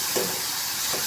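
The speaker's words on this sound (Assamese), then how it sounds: "মছলাখিনি ধুনীয়াকৈ মই ভাজি লৈছোঁ।" Spices frying in a pan for an aloo matar paneer dish give a short, steady sizzle and hiss with faint stirring bursts, close and even throughout.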